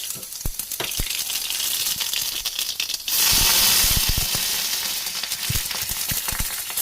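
Mustard seeds crackle and pop in hot oil for a tempering, with a dense sizzle that surges louder partway through and scattered sharp pops throughout.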